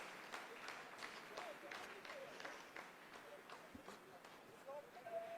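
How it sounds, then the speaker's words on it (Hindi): Steady applause from a crowd of scientists after the Chandrayaan lunar landing, a dense patter of many hands clapping at moderate distance with faint voices mixed in throughout. "आप इस तालियों के गड़गड़ाहट को सुन सकते हैं,"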